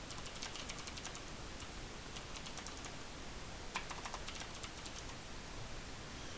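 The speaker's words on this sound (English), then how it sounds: "I got a Skype, so you're gonna hear me typing" Rapid, light keyboard clicks patter on and off in quick bursts, fairly faint, with no talking.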